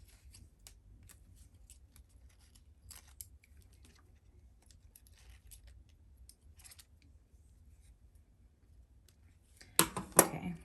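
Scissors trim excess threads from horsehair braid on a dress train, heard as faint, sparse quiet snips followed by a louder burst of cutting and rustling near the end.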